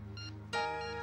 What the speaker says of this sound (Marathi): फोन घे ना जरा